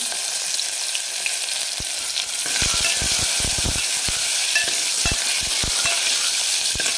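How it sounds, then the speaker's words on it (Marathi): Chopped onion and a pinch of asafoetida fry in hot oil in a pan, a loud continuous sizzle close up, punctuated by sharp clicks and taps of a spoon stirring against the metal. "थोडंसं चिमूटभर हिंग टाकून घेऊ आणि याच्यानंतर अर्धा कांदा कापून घेतलेला तो पण टाकून घेऊ आपण"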